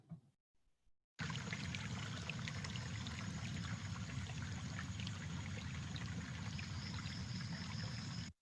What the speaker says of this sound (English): in the background, if you heard the sound, you can see the flowing streams